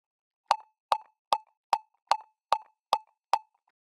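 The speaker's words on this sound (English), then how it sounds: "if we do now its input sound, the dry kick, it's gonna sound like this." Dry kick drum from a Boss RC-505 loop station, eight short soft thumps in an even, quick pulse with silence between them, clean and unprocessed, fairly quiet, no voices.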